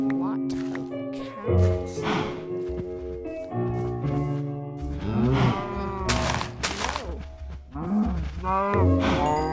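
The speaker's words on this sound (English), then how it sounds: "There's a lot of cows." Cows mooing in a medieval-style video game, a herd giving repeated loud, drawn-out moos that overlap one another close by, with heavy game music or ambience underneath.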